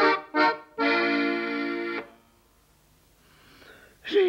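Heavy, out-of-breath panting in a 1961 German marionette series, with short rasping breaths followed by a long sustained wheezing exhale, then quiet and another gasping breath.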